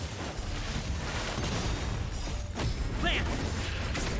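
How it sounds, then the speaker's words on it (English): Explosions in the Honkai: Star Rail video game, dense booming and crashing bursts with whooshes, continuous and loud across a busy battle mix with a voice briefly heard. "Explosions."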